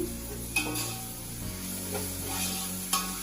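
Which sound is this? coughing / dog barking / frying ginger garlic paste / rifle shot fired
frying ginger garlic paste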